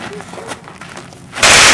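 A gunshot fired at a deer during a hunt cracks out loud and sudden near the end, after a stretch of quieter background with people talking.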